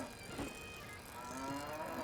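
A cow moos in The Bard's Tale video game, a loud, sustained low call that holds steady for about two seconds with no talking over it.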